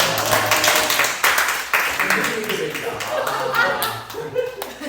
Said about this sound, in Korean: 이렇게 박수 한번 하셔야 돼요.